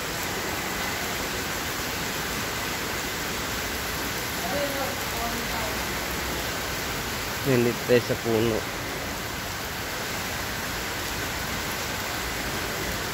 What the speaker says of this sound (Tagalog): Diba lakas ng ulan.